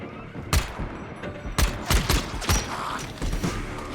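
Gunfire in the video game Dying Light The Beast, a handful of sharp close shots spread irregularly over a few seconds amid creaking and mechanical game noise.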